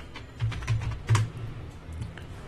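A few close, soft keystrokes tap on a computer keyboard in a short irregular run as a product name is entered, with no talk over them.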